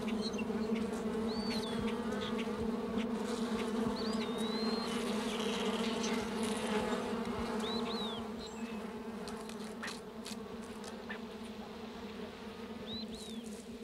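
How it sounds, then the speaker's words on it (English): A colony of honeybees buzzes steadily in oak-hickory woodland in Texas, a continuous drone close by with birds chirping faintly over it, easing slightly in level toward the end. "with a colony of honeybees"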